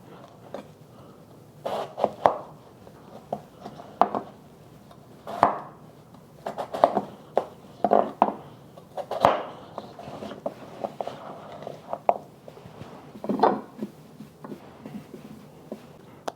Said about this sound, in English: we want to cut up our potato about the same size as our carrot